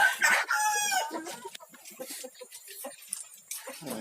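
A rooster crows loudly at the start and chickens cluck in scattered short bursts afterward, close by, with a faint voice underneath.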